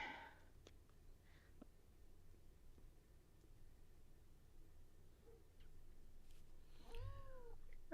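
A house cat indoors lets out a single short meow near the end, fairly faint over a quiet room with light background handling noise.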